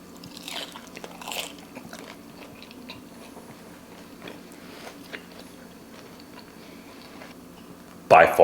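Crunchy bites into beer-battered fried tilapia, a few crisp crunches near the start followed by quieter chewing, then a sudden loud noise at the end.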